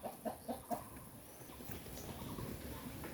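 A few soft clucks from chickens on a farm at a short distance, followed by low background rustle and ambient noise.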